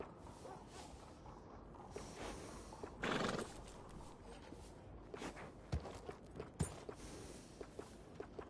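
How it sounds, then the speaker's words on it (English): A horse in the Red Dead Redemption 2 video game neighs once, loud and close, then its hooves clop in an uneven walking rhythm alongside scattered sharp knocks and shuffles. "grooming a horse sure makes it a beaut"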